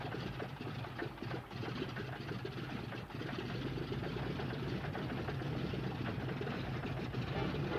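Douglas Dakota twin piston-engine airliner running up at an airport, a continuous loud rumbling engine drone with steady low throb and rattling texture, close and unbroken throughout.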